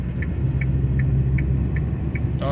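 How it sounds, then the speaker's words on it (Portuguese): A car passes on a wet town street in Campos dos Goytacazes on a rainy Saturday, giving a steady, close engine rumble and tire whir throughout with no talking. "deixa eu passar esse carro primeiro."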